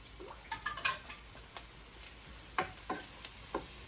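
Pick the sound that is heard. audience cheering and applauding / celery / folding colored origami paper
celery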